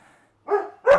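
A dog in a butchery, beside a large Wagyu T-bone steak being cut and trimmed, gives two short, moderately close barks after a brief silence.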